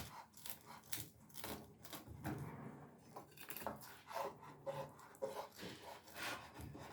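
A knife or cutter saws through a frozen pizza topped with smoked sausage, bell pepper, onion and extra shredded cheese, making a run of close, rough scraping and crunching strokes in an irregular rhythm.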